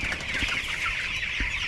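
Pasture-raised chickens cluck and chatter in a flock close by while being offloaded, a busy, continuous mass of soft calls with a few sharper notes.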